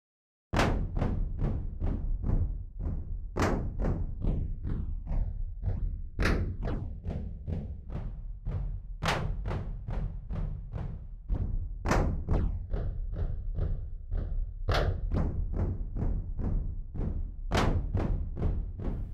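Punchy electronic drums loop steadily, with booming kicks and regular bright hits, heavily filtered through an EDM-style filter in Serum, bass-heavy, with no voices.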